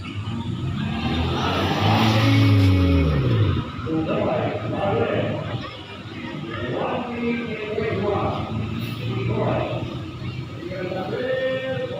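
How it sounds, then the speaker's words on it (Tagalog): Cars in a racing contest roar and rev close by, engine tones rising and falling through a sweep near the start, mixed with crowd noise and steady talk throughout. "contest ng mga kotse"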